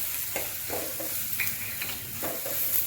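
Girmit masala frying in a pan, with a constant hiss of sizzling and a few soft scrapes of stirring over a short stretch.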